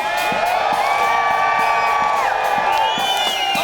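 Rally crowd at an outdoor political protest screaming, whooping and cheering continuously, a dense sustained roar of many voices with high shrieks rising above it.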